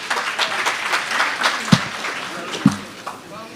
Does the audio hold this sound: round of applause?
yes